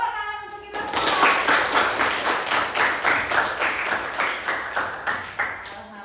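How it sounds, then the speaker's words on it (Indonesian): A group bursts into applause after a brief moment of quiet, settling into a steady, rhythmic clapping pattern that continues evenly to the end. "tepuk tangan untuk kita semua"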